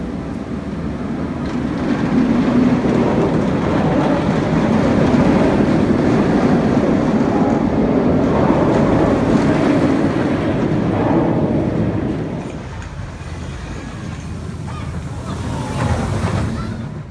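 A ride on the Nemesis roller coaster at Alton Towers gives a loud, continuous rushing roar of wind and track noise that holds for most of the run, then eases slightly near the end.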